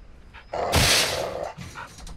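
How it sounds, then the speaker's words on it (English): A dog barks in Call of Duty: Modern Warfare 2, one loud close bark burst lasting about a second, followed by fainter trailing yelps. "Fucking dog."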